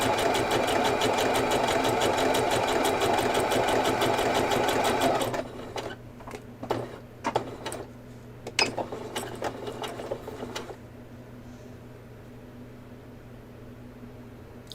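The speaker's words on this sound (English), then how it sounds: "is the sewing machine, is that too loud?" A sewing machine runs loudly and steadily for several seconds, then stops, followed by scattered clicks and handling noises over a quiet hum.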